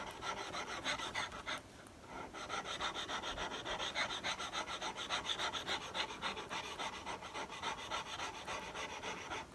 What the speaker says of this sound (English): Make sure you keep that chisel flat on that stone when you do this.